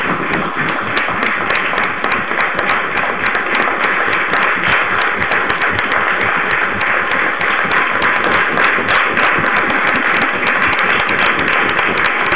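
Sustained audience applause at a city council meeting honoring a school community, dense even clapping from a large room that stays loud and steady throughout with a faint hum beneath.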